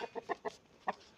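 A farm rooster clucking in a quick series of short, faint calls, five clucks close together, with no voices.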